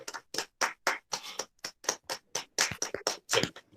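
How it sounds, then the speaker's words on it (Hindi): Hands clap at a morning yoga event, close and fairly faint. A few people's claps land in an uneven rhythm with brief gaps, with no talk over it. "एक बार जोरदार तालियों से हम भाव्या करते हैं"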